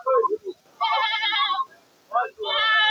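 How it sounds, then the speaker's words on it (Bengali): A red mother goat at a busy livestock market bleats in several loud, wavering calls, two long cries separated by gaps, with shorter bleats at the start and middle. "হাটে সুন্দর একটি লাল রঙের মা ছাগল আছে।"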